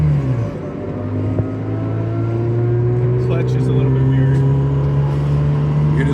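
A Subaru 360, an old left-hand-drive two-stroke kei car with a cable clutch, drones steadily from inside the cabin, its buzzing engine note holding a sustained pitch that slowly rises, with voices talking over it.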